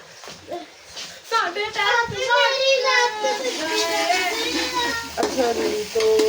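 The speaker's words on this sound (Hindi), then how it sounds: "माशाल्लाह बच्चे भी स्कूल से आ चुके हैं।" Children just home from school chatter and play in a busy household kitchen, their high voices overlapping continuously and fairly close, with food sizzling in a pan and the clatter of stirring underneath.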